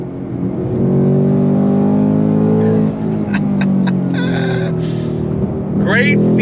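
A 2024 Ford Mustang Dark Horse engine pulls hard on a twisty road, a loud steady in-cabin drone that dips and rises as the throttle is lifted and reapplied, with short tire or whoosh sounds and a brief voice near the end.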